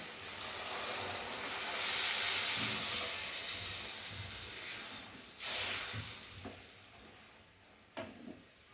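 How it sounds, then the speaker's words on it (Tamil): A steady bubbling hiss of onion tamarind curry simmering in a pot on the stove, with a couple of soft clanks near the end; no talking. "குழம்பு நல்லா கொதிக்கணும்"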